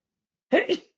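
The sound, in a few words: sneeze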